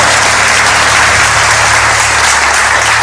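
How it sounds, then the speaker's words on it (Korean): Loud, dense applause from a congregation at a church's 15th-anniversary public broadcast, a steady wash of many hands clapping without a break. "박수"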